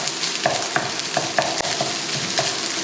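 Leftover white rice being stir-fried in a pan for egg fried rice, with a steady close sizzle and repeated scraping, tapping strokes of a utensil breaking up the rice, no talking.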